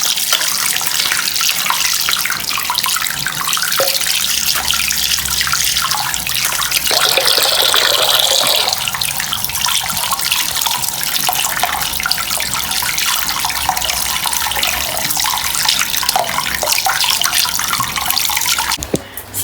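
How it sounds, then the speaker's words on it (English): Tap water runs steadily and loudly into a sink as hands are rinsed under it, a constant hissing splash with no talk. "Rinse my hands off."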